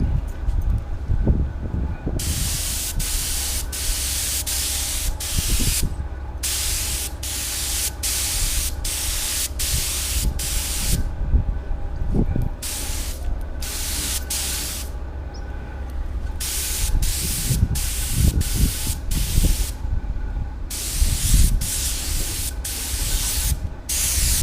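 A spray gun lays the first light coat onto a custom-made center console for a Cadillac, a steady hiss that cuts on and off in repeated short and long bursts, close and loud, with no talking.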